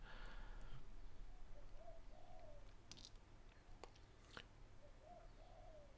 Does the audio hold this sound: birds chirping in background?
yes